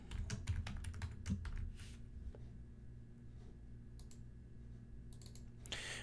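Rapid keystrokes on a computer keyboard as a folder name is typed, a dense burst of clicks in the first two seconds, then sparser taps over a low hum, close and fairly quiet.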